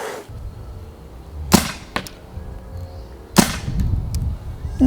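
A MAC-11 gas blowback gel blaster fires two sharp, loud snaps a couple of seconds apart, with a fainter click between them, outdoors against quiet background noise during a 20-meter accuracy test.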